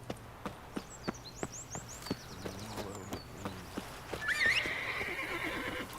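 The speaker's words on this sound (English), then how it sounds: "Whoa there, Roach." In The Witcher 3, the horse Roach trots with a hollow clip-clop of hooves, then lets out a loud, rising whinny near the end over soft outdoor ambience.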